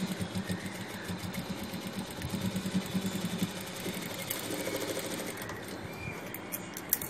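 A sewing machine stitches along the edge of a box-pleat uniform skirt, a steady rhythmic whir running the whole time, moderately loud and close, with no talking.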